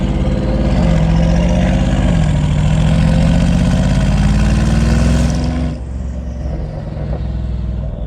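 A Mercedes G63 V8 fitted with a P1 Motorsports exhaust and downpipe, set to its loudest mode, runs with a deep burbling rumble that rises in revs, then settles back toward idle, loud and close.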